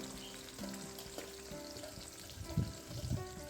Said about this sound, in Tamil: எண்ணெய் சூடானதும் நம்ம வந்து மிக்ஸ் பண்ணி வச்சுருக்க கத்திரிக்காயை சேர்த்துடலாம் இது வந்து நல்லா ஃப்ரை ஆகட்டும்